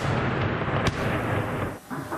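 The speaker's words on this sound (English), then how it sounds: "Explosions boomed through the city." Heavy blasts from drone and missile strikes on Kyiv, Ukraine, rumble loudly and continuously, with one sharp crack standing out near the middle and a short dip before the roar resumes.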